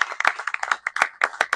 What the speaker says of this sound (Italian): voglio ringraziare Carlo Mancini, che gli faccio un applauso